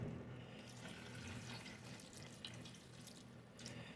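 Water splashing and trickling steadily into a cooking pot, fairly faint, with no voices.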